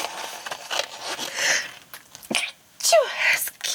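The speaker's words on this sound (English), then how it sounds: "it's constantly sneezing" Sharp, close sneezes from a person at a collage and tissue-paper crafting table: a few abrupt bursts with short pauses between, loud against a quiet room.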